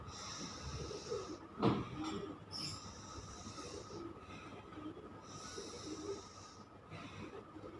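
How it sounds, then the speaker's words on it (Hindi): A woman breathes in and out slowly during a yoga exercise. The breaths are soft, airy and close, rising and falling in a quiet room with a few gentle swells, and no one speaks. "आपको मिस की सांस लेने की आवाज़ आई ना?"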